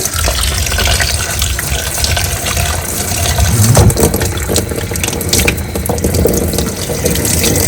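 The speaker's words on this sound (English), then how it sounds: "Just to rinse away some of this bedding or at least the little particles." Tap water runs steadily over worm bedding, rinsing away small particles in a continuous close gush with a few clicks and knocks partway through.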